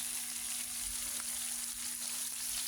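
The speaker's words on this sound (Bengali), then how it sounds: "এমন গরম গরম ইলিশ মাছ ভাজা পেলে এক প্লেট ভাত এমনিই খাওয়া যাবে" Hilsa fish pieces frying in a pan of hot oil, giving a continuous soft sizzle and crackle at moderate distance, fairly quiet and steady throughout, with no talking.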